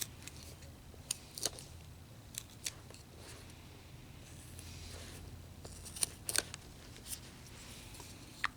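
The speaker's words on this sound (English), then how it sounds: "cut these shoes back just a little bit more" Knife carving a wooden figure of a jail scene, trimming back a shoe and pants wrinkles, with faint, sparse crisp clicks and short scraping cuts scattered over a quiet background.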